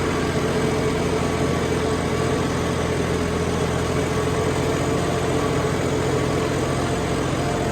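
A John Deere 5405 4WD tractor engine idles with a steady, even diesel rumble that stays constant throughout, with no talk.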